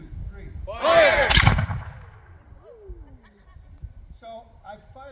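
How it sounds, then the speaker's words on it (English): A musket is fired during a historical demonstration at Fort Frederick, Maryland, giving a single loud, sharp blast that rolls off into echo, with voices heard before and after it. "So I fired my musket"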